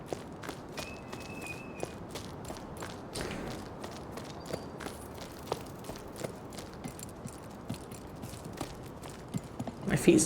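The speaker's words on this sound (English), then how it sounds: "my footsteps sound different when I run over the hatch" Running footsteps in the video game Jusant, crossing a hatch: a quick series of light, crisp steps, fairly faint and close, with a few heavier thuds near the end and no talk.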